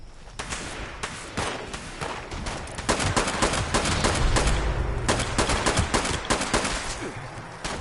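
Repeated gunshots in the video game Fallout 76 crack in rapid bursts and single shots, loud and close, thickening into a dense volley partway through, with no talking over them.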